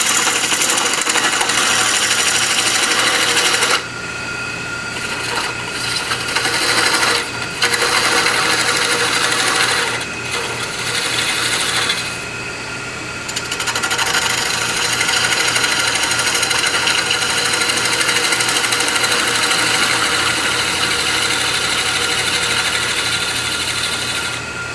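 A wood lathe spins a ring box blank while a skew chisel cuts it, giving a steady loud motor drone with a rough cutting texture that briefly drops out a few times as the tool lifts away.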